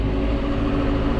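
A hay-mowing tractor's engine throttles up, giving a loud, close, continuous low drone throughout.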